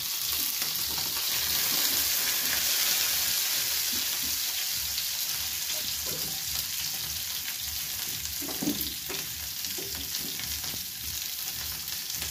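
Food fries in a pan with a dense, steady sizzle close up, overlaid with soft stirring scrapes in the middle stretch, with no talking.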